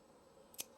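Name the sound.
cutting with cleaned scissors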